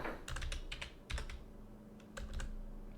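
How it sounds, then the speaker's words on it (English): Quick bursts of keystrokes on a computer keyboard, close and clear, in three short clusters separated by brief pauses, with no one talking. "Cannot type straight."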